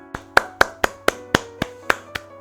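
Bare hands clap together about ten times in a steady, brisk rhythm, each clap crisp, close and loud, with no talking.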